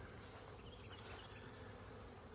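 Honey bees buzzing around hives in an apiary on an early late-July morning, a steady dense hum with a constant high insect drone and no voices.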